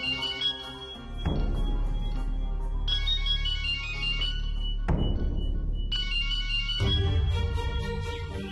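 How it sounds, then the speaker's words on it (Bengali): A phone ringtone plays a bright, repeating electronic melody in several loud phrases, heard alone with no talking, in a Bengali television serial scene. "মিহিরটা ফোন করেছে।"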